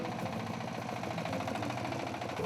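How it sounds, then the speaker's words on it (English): A truck engine labours up a steep mountain supply road, crawling at about 10 km/h and close to overheating, giving a steady, loud low drone with rough mechanical knocking throughout and no talk. "The truck struggles on the ascent and slows to barely 10 kilometers an hour."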